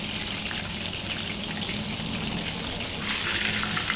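Chicken lollipops fry in a pan of hot oil, producing a dense, even bubbling sizzle that holds steady throughout, close and fairly loud with no voices.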